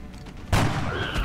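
A single sniper rifle headshot in XCOM: Enemy Unknown lands as one loud, sharp boom, then a brief lingering tail with some faint game effects behind it.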